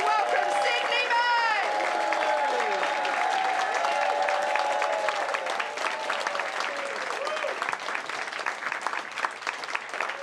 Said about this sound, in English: Could you start the applause for us, my love?